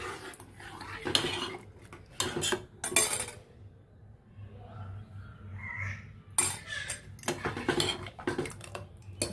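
Dishes and utensils clatter and clink in a sink in several loud bursts, with quieter handling noises between them and a low steady hum underneath.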